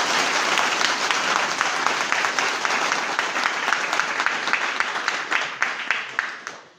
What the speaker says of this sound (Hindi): ताली बजा के इसको एक्सेप्ट कर लो।